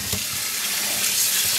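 Tap water runs steadily into a basin being filled for washing non-superwash wool yarn with dish soap, a continuous close hiss and splash with no talk.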